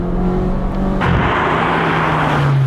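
A Ferrari 458 Speciale Aperta with a V8 engine is driven hard, a loud close engine note that jumps sharply in pitch and intensity midway as the car accelerates.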